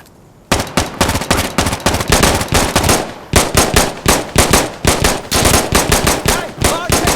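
Loud automatic gunfire in the video game Insurgency Sandstorm: rapid, close bursts of shots with brief pauses between volleys, carrying on almost continuously.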